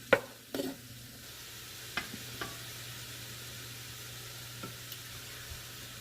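Onions cooking down in a chili pot over medium-high heat, a low steady sizzle with a few scraping stirs and clinks of a utensil against the pot early on, no voices.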